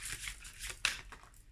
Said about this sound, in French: Je vais tirer une carte.